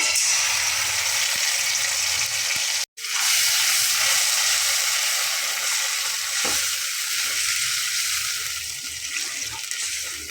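Ground spice paste hits hot oil with okra and black cumin seeds in a pan, giving a steady close sizzle that cuts out briefly and then carries on evenly without talk.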